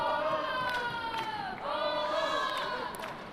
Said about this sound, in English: You can hear the crowd, certainly the orange crowd, shouting Holland, Holland.